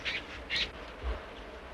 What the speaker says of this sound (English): Got a pair of cactus finches, got a couple of medium ground finches, large ground finch over there